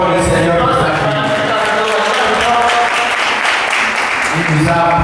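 An audience applauding at a handover ceremony, a loud, sustained wash of many hands clapping together, with voices audible through it.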